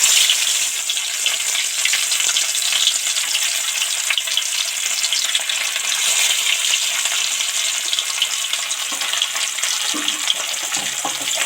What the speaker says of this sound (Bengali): এবার ওদিকে তেল গরম হয়ে গেছে, আস্তে আস্তে একটা একটা মাছ তেলের মধ্যে উঠিয়ে দেব।